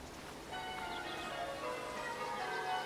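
Church bells ring in the distance, a soft sustained chime with shimmering overtones that swells slightly and lingers steadily throughout, with no talking.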